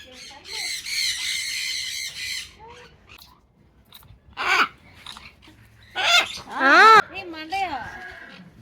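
A cockatoo at Ibrahim farms in Trichy squawks loudly and harshly in several bursts at close range, mixed with a person talking and rustling handling noise.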